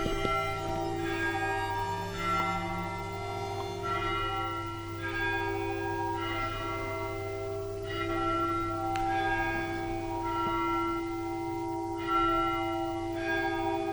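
Church bells ring out at an Armenian monastery, clear and sustained, with repeated resonant strikes overlapping in a rich, steady peal and no talk.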